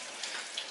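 Rain falls in a brief, steady, close hiss of drops with no voices.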